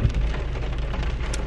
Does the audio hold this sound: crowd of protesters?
no